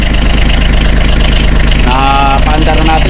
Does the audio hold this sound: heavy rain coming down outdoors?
no